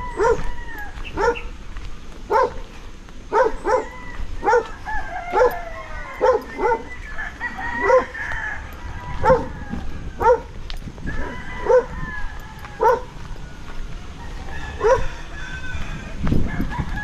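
Several dogs bark, yip and whimper in repeated bursts for a long stretch, close at hand, with whining cries between the louder barks and a faint background hum.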